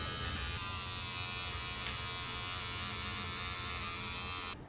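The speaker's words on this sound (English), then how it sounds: "to clean up around the ears, we're going to just use the clipper" Wahl electric hair clipper with no guard buzzing steadily and close, a constant motor drone with bright high overtones that holds unbroken for several seconds before cutting off at the end.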